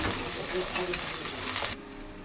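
Chilli powder and turmeric fry in a pan for a fish curry, giving a dense, even hiss and sizzle with light stirring that drops away abruptly near the end.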